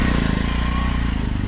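Steady engine drone of passing road traffic, motorbikes and small vehicles, on a slope near a Buddhist temple entrance in Kandy, loud and continuous without a break.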